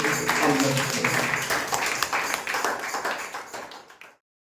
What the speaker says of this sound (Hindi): आइए एक आपका उत्तम ताली केवल प्रभु यीशु मसीह के लिए।